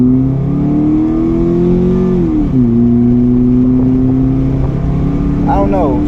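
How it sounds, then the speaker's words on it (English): A car with new coil packs, spark plugs and a cold air intake is floored at full throttle, its engine droning loudly and steadily from inside the cabin. The pitch rises, dips briefly at a gear change, then climbs again. "I'm gonna get all the way over into the main lane and floor it and see what she does"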